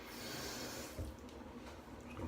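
Water trickles and splashes softly as it is added to a tallow and duck fat shaving soap lather, a faint close wet sound with light dripping and no speech.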